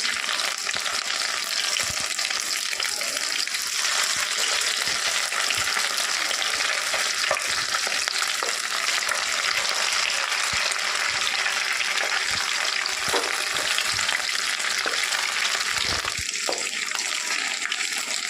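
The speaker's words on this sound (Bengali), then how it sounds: "আর আমি আবার ভেজে দিচ্ছি চিকেনগুলো" Chicken pieces deep-frying in hot oil for chili chicken, a steady dense sizzle and crackle running the whole time with occasional small pops and utensil touches, close and continuous with no talking.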